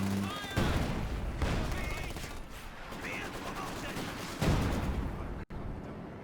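Sustained MG-34 machine gun fire rattles through a Company of Heroes 2 battle, loud dense bursts with brief gaps alongside other battlefield noise, under continuous commentary talk.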